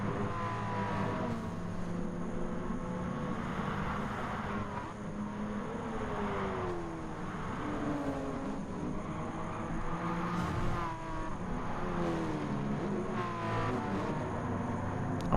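Race cars in FIA Nations online racing at Maggiore, engines droning and rising in pitch as they accelerate and pass in a continuous stream, moderately loud with no talk over it.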